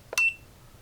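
An AliExpress multimeter gives one short, clear electronic beep after a faint click, close and isolated with nothing else around it.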